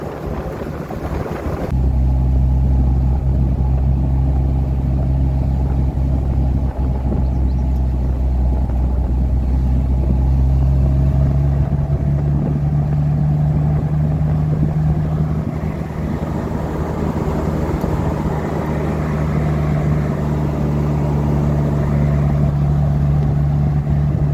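A 1995 Jeep YJ with a 4.0 engine and automatic transmission drives steadily, its low engine drone and road rumble continuous and close throughout, with wind buffeting over the top.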